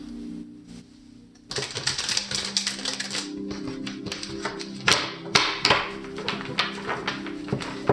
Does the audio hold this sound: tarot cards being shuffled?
yes